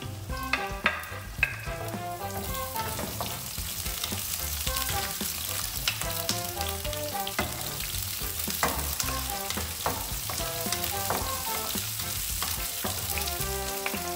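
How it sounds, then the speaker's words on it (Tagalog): Onion and garlic sautéing in olive oil in a hot pan, loud and continuous crackling sizzle with frequent stirring clinks and scrapes throughout, no talking. "igisa na natin ang una natin sangkapang sibuyas at bawang"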